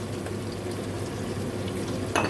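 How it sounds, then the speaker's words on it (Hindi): Mutton frying in a pot with whole garlic cloves over high heat for degi aloo gosht, a steady dense sizzle throughout with a brief stir or clatter near the end. "फिर इसको खूब फ्राई करेंगे।"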